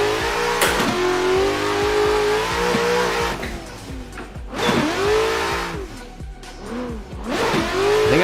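A VDC Corvette V8 in the Assetto Corsa racing game revs hard, the pitch swooping up and down through repeated gear changes, with tires squealing and skidding in a close, loud run of drifting.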